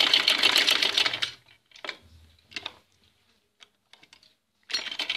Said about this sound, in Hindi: मशीन को उठा के और फिर सिलाई करेंगे कोने के ऊपर से ताकि शेप अच्छे आए।